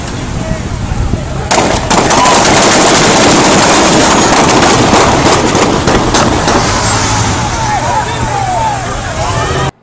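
A rapid burst of gunshots rings out in a replayed recording of a police shooting, dense cracks packed together over crowd noise and voices, loud and chaotic.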